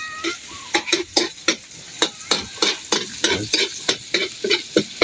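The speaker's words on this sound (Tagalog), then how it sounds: "Gisa. Isa tayo ng bawang sibuyas." Garlic and onion sautéing in a pan, a steady sizzle broken by a dozen sharp scraping stirs of a utensil at a brisk, uneven rhythm, close and loud with no talking.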